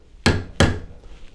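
A thin screwdriver forces against the tab of an old brake shoe pad, giving two sharp, close metallic knocks about a third of a second apart over near-silence.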